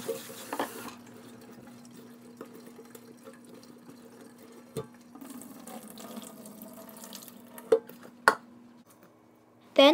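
Tap water runs over cauliflower in a sink, a quiet steady stream with occasional splashes and a few sharp clinks near the end.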